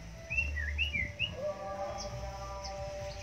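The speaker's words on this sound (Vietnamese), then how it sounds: "Đây là những chú chim mà anh Hữu đang sàng lọc" Small birds chirping and whistling at a bird breeding farm, a few short bright tweets and trills in quick succession over a faint steady background hum, fairly quiet and near.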